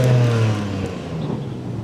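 A BMW G82 M4 with an aftermarket exhaust revs its turbocharged engine, a loud, close, humming growl that drops off after the first half-second and then carries on more softly.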